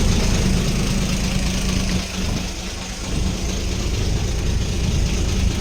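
The engine of a backwater tour boat on Vembanad Lake drones steadily and loudly throughout, a constant low throbbing hum with no speech.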